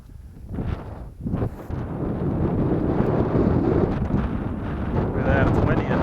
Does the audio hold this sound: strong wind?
yes